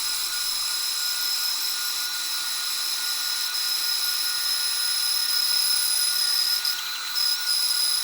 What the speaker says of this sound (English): the first step is to cut this 3/4 inch thick piece of leopard wood in half with my bandsaw